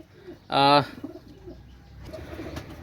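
A high-quality Pakistani flying pigeon gives one short, loud, tonal coo near the start, followed by quiet rustling and faint background noise.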